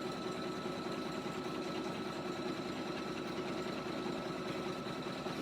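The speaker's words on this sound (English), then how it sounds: "And it's going to stitch both of these at one time." An embroidery machine stitches an appliqué design, giving off a quiet, continuous mechanical whir with a fast, even needle rhythm that holds steady throughout.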